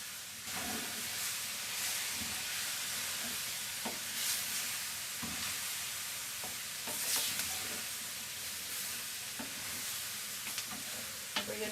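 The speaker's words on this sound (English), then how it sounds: "I'm gonna go in with the eggplant and the rest of the salt" Eggplant sizzles steadily in a hot pan with salt for a vegetarian paella, a constant bright hiss broken by occasional scraping stirs and soft knocks, close and fairly loud, with no talking.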